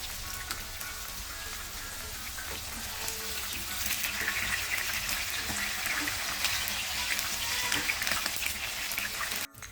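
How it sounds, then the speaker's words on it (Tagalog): Tofu (tokwa) sizzles steadily in hot oil, a dense crackling hiss that runs continuously and grows slightly louder, with no talking over it. "Gumamit nga pala ako dito ng tokwa. Ang una natin gagawin ay prituhin lang natin ito."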